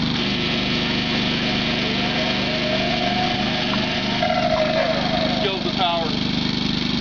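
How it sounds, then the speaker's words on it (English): A Hitachi saw runs on generator power alongside a constant engine drone, a steady loud mechanical hum with someone talking over it. "when I pull the power on the Hitachi saw"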